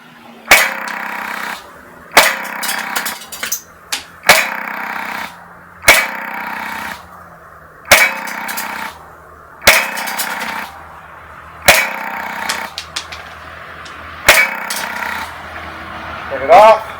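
Eight single shots from a Baikal Drozd MP-661K BB machine gun, fired outdoors in single-shot mode, each a sharp crack spaced about two seconds apart, with a faint voice at the very end.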